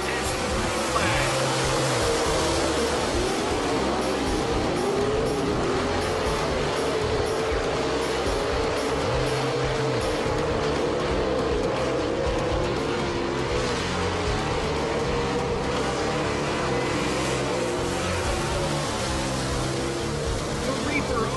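Dirt-track race cars accelerate as a heat race goes green, a dense continuous engine roar with layered revving throughout, loud and steady with no clear gaps.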